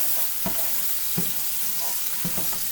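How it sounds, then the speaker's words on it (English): Garlic and crushed red pepper flakes sizzle steadily in oil for broccolini, a loud close hiss broken by a few soft knocks from stirring in the pan. "garlic and our crushed red pepper flakes to our oil for our broccolini."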